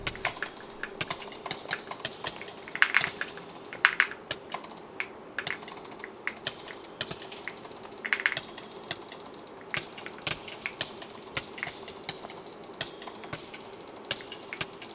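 Clicky keys of a Kiiboom Phantom 81 V3 transparent mechanical keyboard clatter in quick irregular bursts during Minecraft PvP, fairly quiet and close, with no voices.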